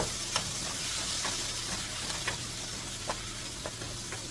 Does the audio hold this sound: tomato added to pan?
yes